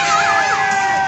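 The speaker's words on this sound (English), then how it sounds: "If you think Team Bev won, give us a cheer" A crowd at an outdoor Christmas light switch-on event cheering and shouting for one team, a loud burst of overlapping yells and whoops, with children's high voices prominent, sustained across the whole moment.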